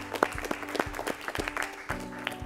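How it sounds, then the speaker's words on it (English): A quiz-show audience gives scattered, uneven claps, a handful of separate hand strikes over a low steady hum, short and moderately close. "So let's clap for them as well."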